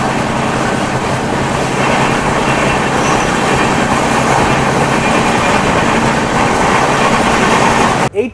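A passenger train with a top speed of 110 km/h is moving. A loud, continuous rumble and rattle of wheels and carriages fills the whole stretch, then cuts off sharply.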